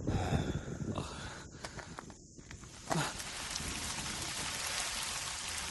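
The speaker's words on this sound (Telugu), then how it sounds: "వర్షం పడుతోంది, వెళ్ళిపోదాం." Rain falls steadily, a dense, even patter that grows fuller after a brief dip with a few scattered knocks, close and constant throughout.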